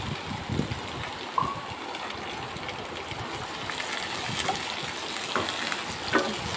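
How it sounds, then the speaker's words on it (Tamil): Snake gourd sautéing in a pan with onion and curry leaves, a steady soft sizzle with faint stirring scrapes and a few light clinks, close and fairly quiet. "கொஞ்சம் நேரம் அப்படியே வதக்கிக்கலாம்."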